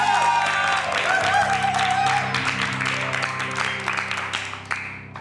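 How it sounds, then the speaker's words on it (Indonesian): Studio audience in an Indonesian TV comedy news show claps and cheers amid music, loud and sustained at first, then thinning toward the end. "Tepuk tangan dulu semuanya teman-teman"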